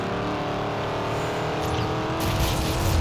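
A car in a video game drives and swings through turns, its engine humming steadily with tonal whine, then roaring louder as it accelerates near the end.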